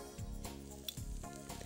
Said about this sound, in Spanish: Vamos a poner un poco de aceite de oliva. Y ahí vamos a dorar nuestra cebolla.